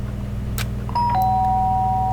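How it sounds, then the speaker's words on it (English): A doorbell rings in the video game Danganronpa Trigger Happy Havoc, a clear two-tone electronic chime that sustains and rings out over a low background hum, preceded by a faint tap. "The sharp sound of the doorbell pierced my sleepy haze and pulled me back to the real world."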